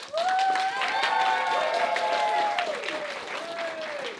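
Applause from a live audience after a radio show scene performed on stage, continuous clapping with some cheering, with sustained musical tones sounding over it.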